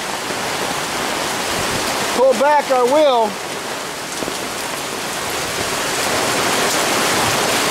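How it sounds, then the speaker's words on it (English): Quarter-size hail and heavy rain pound steadily on an awning at a flea market, a dense, loud hiss and patter throughout, with someone briefly speaking and a short whistling, warbling tone partway through. "if I do, I'm going to get hammered with hail. That's about a quarter size."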